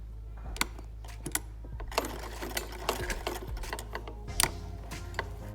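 A sewing machine stitches a kurta, running in close, loud bursts of rapid mechanical ticking with brief pauses and a steady low motor hum underneath.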